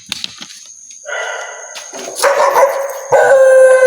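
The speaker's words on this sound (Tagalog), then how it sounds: "May aso." A dog barks and howls inside an abandoned school in Cavite, with a few sharp yips first, then loud, drawn-out echoing howls and barks close by.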